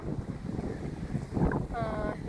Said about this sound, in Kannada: ಗಾಳಿ ಅಂತೂ ಭಾಳ ಗಾಳಿ ಇದೆ